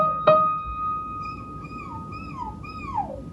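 A soprano voice imitates a puppy's whimper: a short sharp onset followed by a series of sliding, falling whiny tones, close and moderately loud, with no talking.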